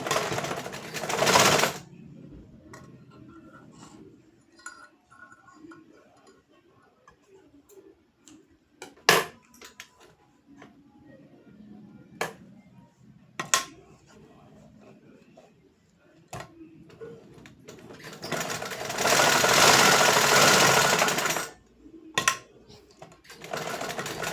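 A sewing machine stitches a double seam in two loud, close bursts, one brief at the start and a longer run near the end, with quiet handling and light clicks between.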